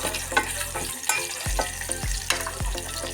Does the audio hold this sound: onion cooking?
yes